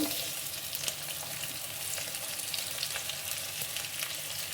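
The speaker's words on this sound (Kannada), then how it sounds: "ಈರುಳ್ಳಿ ಸ್ವಲ್ಪ ಗೋಲ್ಡನ್ ಬ್ರೌನ್ ಬರೋವರೆಗೂ ಎಣ್ಣೆಲಿ ಫ್ರೈ ಮಾಡ್ಕೊಳ್ಳಿ" Onions frying in oil with curry leaves and browned chana dal for a vermicelli upma, giving a steady, dense sizzle with faint stirring, close and continuous with no talk.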